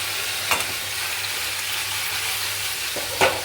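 Fish frying in oil in a wok while being stirred, a steady loud sizzle with a couple of sharp scraping turns of the spatula.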